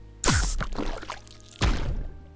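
Two bursts of wet splashing, like footsteps slapping across water, each a loud broadband hit trailing into drips and churn, close and with no voices, as a sound effect for a figure running on water.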